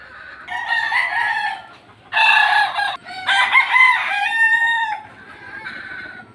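A rooster crows repeatedly at close range in a gamefowl hatch pen, with three or four loud, harmonic crows in quick succession and a softer call at the end over quiet farmyard background.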